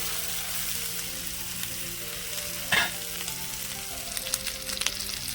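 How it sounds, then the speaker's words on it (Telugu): Onions for an egg curry fry in a pan with a steady, fairly quiet sizzle, broken by one short clatter near the middle and a few light ticks toward the end; no one speaks. "ఉల్లిగడ్డ వేగాలండి"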